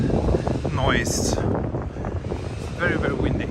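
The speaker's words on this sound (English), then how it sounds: "Very, very windy here." Strong, steady wind buffeting the microphone outdoors in Tokyo, a constant low roar with voices talking over it throughout.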